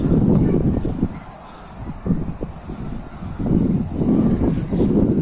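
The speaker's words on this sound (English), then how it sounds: "It's quite windy today, so apologise for the wind" Gusty wind buffets the microphone, producing low, rumbling bursts that swell and fade repeatedly throughout.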